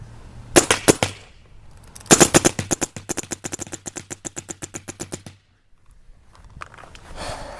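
A Dangerous Power G3IQ paintball marker firing outdoors: a few single pops, then a fast rapid-fire string of sharp, evenly spaced shots that stops abruptly, with faint rustling afterward.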